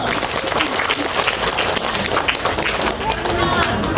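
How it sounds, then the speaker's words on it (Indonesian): Loud, dense applause fills a junior high school farewell ceremony for ninth graders, many hands clapping continuously with crowd noise mixed in. "tepuk tangan dulu"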